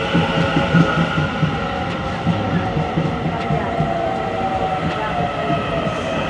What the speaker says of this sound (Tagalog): Pero yung mga gantong train, mahaba. Pang malayuan.